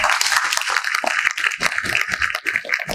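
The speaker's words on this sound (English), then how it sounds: "just a round of applause" A healthcare panel audience gives a round of applause, a fairly close, brisk patter of many hands clapping that fluctuates in density over a few seconds, with no talking.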